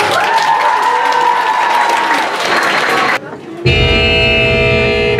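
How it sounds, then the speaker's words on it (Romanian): A crowd at a high school freshman ball in Romania applauds loudly with voices mixed in, then the clapping cuts off and a loud music track starts. "Aplauze pentru Carina Hâra!"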